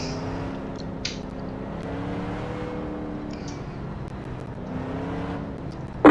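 Street stock race cars circle Bristol under caution behind a pace car, engines droning steadily with rising and falling whine as cars pass at a distance, a continuous mechanical roar without talk.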